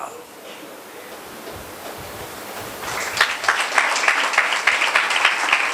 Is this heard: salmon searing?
no